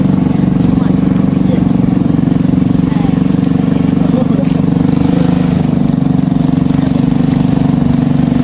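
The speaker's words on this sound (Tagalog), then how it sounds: "may dadaang bangka" A steady low engine drone hums throughout from a passing boat on the river by a Valenzuela boardwalk, like a motorboat puttering along nearby, with faint background voices.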